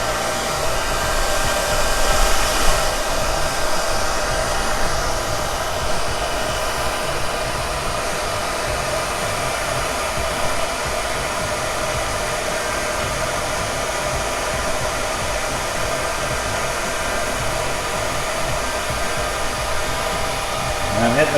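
A hair dryer blows hot air steadily on a handlebar mustache, a loud continuous whooshing roar that holds unchanged throughout with no talking.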